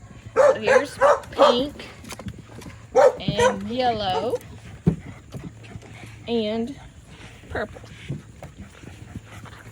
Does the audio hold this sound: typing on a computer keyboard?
no